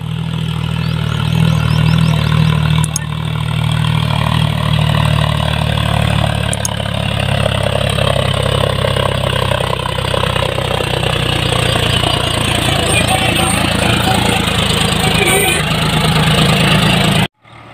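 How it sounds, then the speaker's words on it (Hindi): A heavy Swaraj 744 tractor engine pulling a fully loaded double-deck trolley drones steadily and loudly throughout, with a low rumbling idle and no clear pauses. "देखो ट्रैक्टर आ रहा है।"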